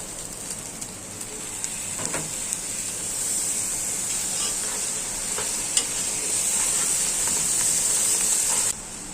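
Ginger-garlic paste, turmeric, chili and salt go into a hot pot for beef khichuri, setting off a steady, fairly loud sizzle with a few faint clicks of stirring.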